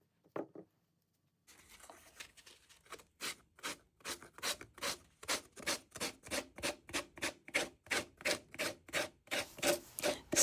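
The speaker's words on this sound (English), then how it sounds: "I'm going to go around the entire project with the sanding block, remove the excess paper" Sanding block rubbing back and forth along the edge of a decoupaged wood tray to trim excess tissue paper, a steady run of close, rasping strokes that quicken into a regular rhythm, with no talking.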